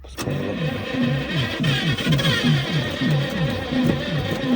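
An old ZIL truck engine cranks over and over without catching, the starter churning in a fast rhythmic chug that holds steady and loud throughout.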